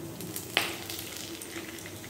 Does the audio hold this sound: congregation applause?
no